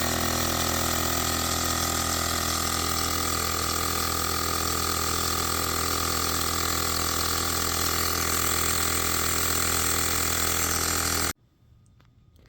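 A portable tire inflator pumps air into a car tire, buzzing with a loud, steady mechanical drone close by for about eleven seconds before it abruptly cuts off, leaving quiet behind.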